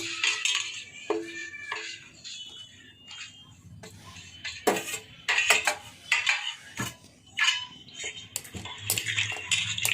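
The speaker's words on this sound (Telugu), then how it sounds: "ఇప్పుడు మష్రూమ్ వేసుకుందామండి. ఈ మష్రూమ్ మొత్తం వేసుకొని" Mushrooms tipped into a hot pan with turmeric and stirred for a mushroom curry, giving scattered clinks and scrapes of a utensil against the pan with bursts of rattling.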